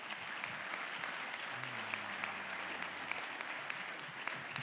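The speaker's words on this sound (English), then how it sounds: "can we please give a round of applause for our amazing panel?" Audience at a tribal forestry and fire workforce panel applauding, a steady, even patter of many hands held throughout, with a low hum briefly underneath.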